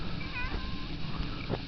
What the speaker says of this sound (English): You are the most pathetic cat I've ever heard.